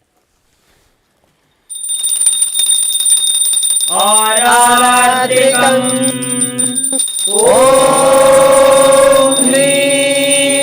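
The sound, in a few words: bell rung during arati offering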